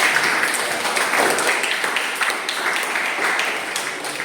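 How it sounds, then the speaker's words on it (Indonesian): An audience at a teacher-training class discussion session applauds steadily, a dense wash of clapping that holds fairly loud throughout with slight swells. "berikan aplaus pada proposal"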